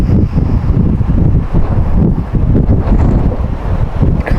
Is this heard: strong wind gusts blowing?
yes